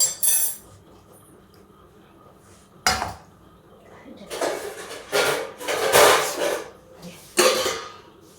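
Metal clatter of a pot and lid in a home kitchen while eggplant curry is being cooked, several sharp clanks and scrapes spaced over the clip, close and fairly loud with quiet gaps between.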